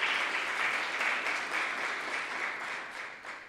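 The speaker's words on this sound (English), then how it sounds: "So let's give also a round of applause." Steady applause from a church congregation at a graduating student sending service, thanking the maintenance team; dense, even clapping from a large group, holding level and tapering slightly at the end.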